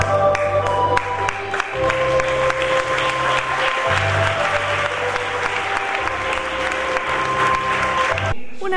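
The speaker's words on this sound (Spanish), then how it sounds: "en medio de los aplausos de todos" Wedding guests clap as the bride and groom walk to the altar through an honor guard, a steady applause underneath sustained organ or music tones that carry on almost to the end.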